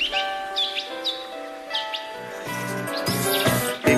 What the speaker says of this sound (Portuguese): Segredo de passarinho é saber cantar.